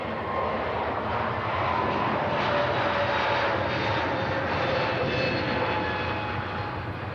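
A Turkish Airlines A321neo jet takes off at Manchester Airport bound for Istanbul, its engines a loud, steady, broadband roar that holds throughout with no talk.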